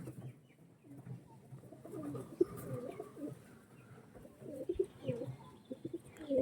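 Pigeons of a racing tournament breed cooing close by: repeated low throaty coos in uneven bursts, with faint soft rustling between calls and no voice.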